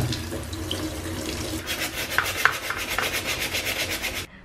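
A roughly three-year-old dirty bag is washed under a running tap, with water splashing steadily into a sink while rhythmic rubbing and scrubbing strokes pulse close by.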